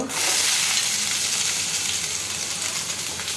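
Onion fries in hot oil with mustard seeds, cumin and dal, a dense continuous sizzle at close range that stays loud and even throughout, no talking.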